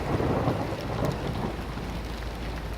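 Heavy rain and hail pound surfaces during a sudden thunderstorm at an M4 motorway service station in the UK, a loud dense roar with low thunder rumbling underneath.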